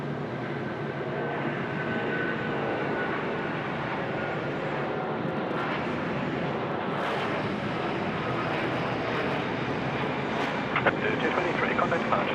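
A heavy jet rolls for takeoff at Sydney Airport, a steady, broad engine roar from a distance that holds and builds slightly, with radio voices from air traffic control talking over it.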